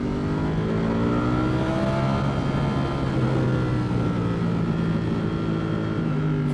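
A Ducati Streetfighter V4S 2024 motorcycle engine held at a loud, steady high drone with rising and falling pitch, close and continuous with no pauses or talk.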